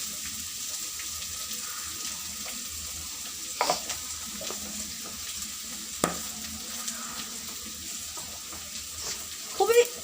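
Food with salt and turmeric fries in a pan while being stirred, a soft continuous sizzle broken by a few sharp scrapes and knocks of the spatula against the pan.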